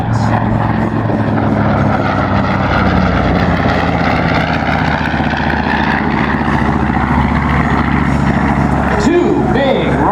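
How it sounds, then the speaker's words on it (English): A B-25 bomber makes a low flyby at an air force base airshow, its two 14-cylinder air-cooled radial engines at full power producing a loud, continuous droning roar that fills the whole stretch. "The sounds of this B-25 that you're about to hear, truly the sound of freedom."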